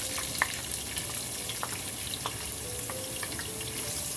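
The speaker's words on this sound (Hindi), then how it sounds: "ऑयल गर्म हो चुका है, जैसे गर्म हो जाए आपने इसमें ये प्याज डाल देनी है" Onion frying in hot oil in a pan for a lauki chana dal, a steady close sizzle with scattered pops and crackles and a faint metallic clink, no talking.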